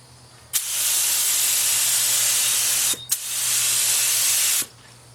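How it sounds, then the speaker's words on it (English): A paint spray gun hisses loudly in two sustained bursts, a long one then a shorter one after a brief pause, with a low hum underneath, while painting a Willys Jeep. "just get your spray gun, take it out, adjust the fluid control"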